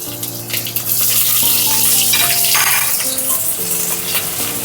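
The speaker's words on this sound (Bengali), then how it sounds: "প্রথমে এই আদা কাঁচা লঙ্কাটা তেলে দিয়ে দেবো।" Chopped ginger and green chillies sizzle as they drop into hot oil in a pan while cooking a vegetarian cauliflower curry. The frying crackles loud and close, with a steady hiss and no voices.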